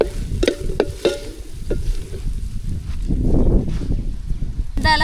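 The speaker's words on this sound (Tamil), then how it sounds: "லைட்டாக வதக்கினா போதுமா கலர் வரைக்கும் வதக்கிக்கலாம்" Turkey berries (sundaikai) sautéing in a pan: a few sharp clinks of a spatula against the pan, then a low sizzle that swells midway. The sound is close and fairly loud, with no talk over it.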